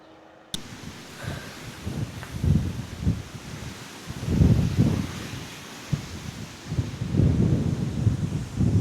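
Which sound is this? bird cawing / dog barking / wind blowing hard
wind blowing hard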